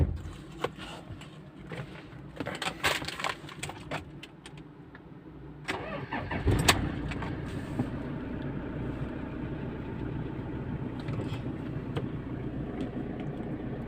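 A Toyota Fortuner's engine cranks and catches midway with a loud burst, then settles into a steady, rumbling idle that continues to the end after some earlier clicks and handling noises.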